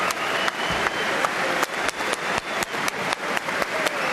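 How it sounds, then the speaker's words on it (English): Appreciative applause from a boxing crowd in Manchester at the close of an IBF world super lightweight title bout, a steady dense clapping with sharp individual claps over crowd noise, fairly loud and continuous. "Appreciative applause from this crowd in Manchester"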